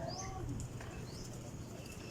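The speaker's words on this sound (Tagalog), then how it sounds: "Daming kalapati dyan." Pigeons cooing outdoors at a loft during a bird release, soft repeated coos with a few faint chirps over steady background noise.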